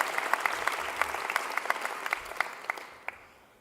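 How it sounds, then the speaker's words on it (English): A modest audience claps at a university senior showcase, with a few distinct sharp claps standing out from the steady patter before it thins and fades near the end. "You can clap."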